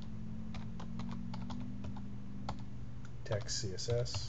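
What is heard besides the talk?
typing on a computer keyboard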